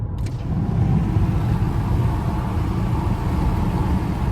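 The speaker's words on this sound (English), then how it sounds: "you can hear the unequal air pressures and the baffling" Steady wind buffeting fills the cabin of a 2025 Mazda CX-5 Turbo driving with its windows open. A loud, continuous low roar with uneven pressure throbbing runs throughout, and no voices are heard.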